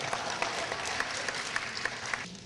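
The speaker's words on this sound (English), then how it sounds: "give them a round of applause" Steady audience applause fills a book-signing event honoring published student authors, with dense, continuous clapping from a sizable crowd, close and loud throughout with no speech over it.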